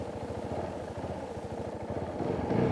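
A KTM 690 Duke single-cylinder engine idling in neutral, a close, steady low pulsing thump with mechanical clatter that swells slightly toward the end.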